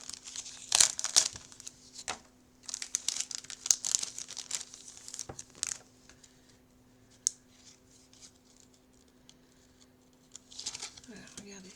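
Packaging of a ten-pack of paper punches crinkles and tears in close, soft bursts of crumpling plastic and paper, with quiet pauses between, while a person talks throughout.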